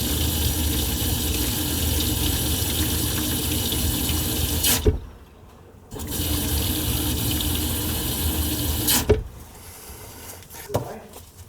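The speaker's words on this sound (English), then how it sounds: "That's pure hot water going in there." Hot water runs steadily from a tap into a slow-draining kitchen sink, a loud, even rush that cuts off twice for about a second before resuming, then fades to quieter trickling and gurgling near the end.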